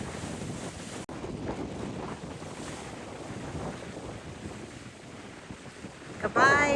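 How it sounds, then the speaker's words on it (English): Strong 20 mph wind coming off the glacier at the head of Reid Inlet in Glacier Bay, Alaska, roars and buffets a microphone aboard a boat, a continuous broadband rush with water noise beneath. "we've got 20 miles an hour wind coming off the glacier at the end"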